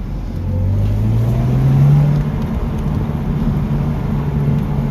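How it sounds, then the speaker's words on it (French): A BMW Z4 E85 with a 192 hp engine drives along, its exhaust a loud, steady low drone that rises in pitch as it accelerates, then holds a constant cruising hum with road noise. "l'échappement il est pas mal. Par contre le silencieux, ils nous ont fait chier, ils ont mis trop de silencieux"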